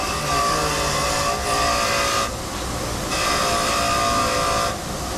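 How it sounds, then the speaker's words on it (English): Electric grinder (pulidora) cleaning carbon deposits off an engine valve at a workbench, a steady loud whining hum that dips briefly twice as the tool is pulled off the metal, with no talk. "Te traes el grinder que está ahí, te lo traes la pulidora, el grinder"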